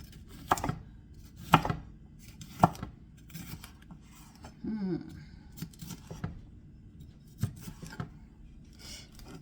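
A knife cutting a red onion on a cutting board, with a string of sharp, separate chops spaced a second or so apart and some faint rustling and scraping between them, close by.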